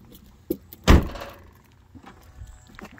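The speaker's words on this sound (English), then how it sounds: "Yeah, I hear the lock mechanism." A car door is shut by hand and its lock mechanism engages with a single solid thunk, followed by faint clicks and small mechanical rattles in a quiet garage.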